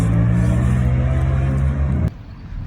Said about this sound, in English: It's just a massive bass system being played from someone's car.